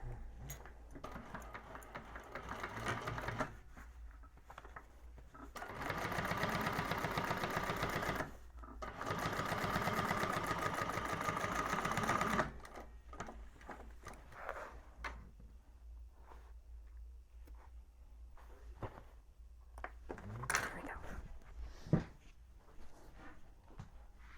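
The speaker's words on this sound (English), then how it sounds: "press the seam towards the lining and then top stitch that seam in place through the lining" A sewing machine top stitches a pressed seam through a drop-in bag lining, running in two sustained bursts of steady whirring separated by pauses, with lighter handling clicks and rustles in between.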